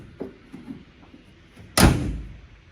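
A bonnet on an XR6 Turbo swings down and shuts with one loud, close slam and latch, its rumble trailing off, after a few soft taps and clicks.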